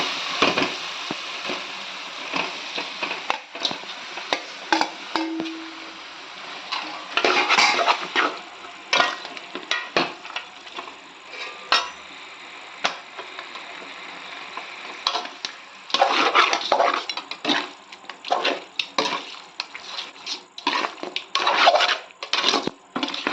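Chicken pieces tipped into a pan of sautéed onion and tomato gravy and stirred, giving repeated clattering scrapes of a spoon against the metal pan, louder in scattered bursts, with no talking.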